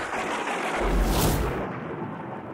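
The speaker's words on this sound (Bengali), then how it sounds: "কি আশ্চর্য, এই সময় এমন বজ্রপাত!" A cartoon thunderclap swells into a heavy, booming rumble that peaks midway and fades after about a second, with no voices over it.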